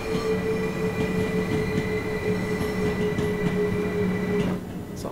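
Inside a BR Class 377/4 electric train on the East Coastway line from Brighton to Eastbourne, a steady rumble and electric whine fill the carriage, with faint wheel squeal and a brief clunk near the end.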